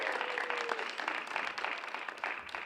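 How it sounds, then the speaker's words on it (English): Audience at a communication studies media showcase applauds steadily for the full stretch, a dense wash of clapping at moderate level with a faint tone early on. "So let's give them a round of applause here."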